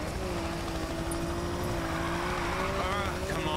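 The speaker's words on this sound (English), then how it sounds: "That chopper's gonna shut you down." A helicopter chases a car through a construction yard in the racing game Need for Speed Payback, a steady whirring drone held at an even level throughout with a car engine tone mixed in beneath.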